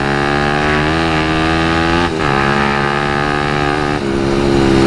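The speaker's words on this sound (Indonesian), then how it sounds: "Yang gua suka ini suara knalpotnya nih dari Lone Rider tipe HE CMMS ya." Suzuki Satria FU motorcycle with a Lone Rider HE CMMS aftermarket exhaust, held at a loud, steady high rev, the engine buzzing continuously close up with two brief dips as the throttle blips.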